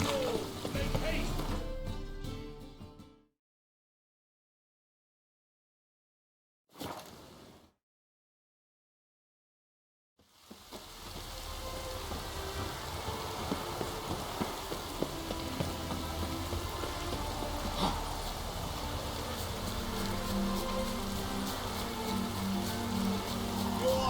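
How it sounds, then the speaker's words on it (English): Rain falls in The Witcher 3: Wild Hunt as a soft, steady patter mixed with game ambience. It breaks off into near silence for several seconds, then returns and continues steadily. "I like rain."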